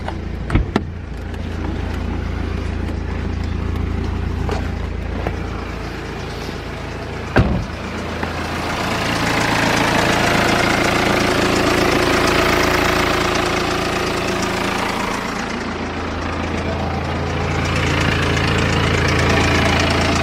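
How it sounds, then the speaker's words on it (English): A BMW 3 Series engine cranks and catches after a major service, then settles into a steady, fairly loud idle that rises and falls slightly over twenty seconds, close by with no talk. "Now let's try and fire it up."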